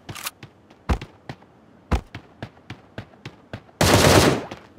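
Gunfire in PUBG Mobile: a string of separate sharp shots at uneven spacing, a few louder cracks among quieter pops, ending in a loud sustained noisy blast.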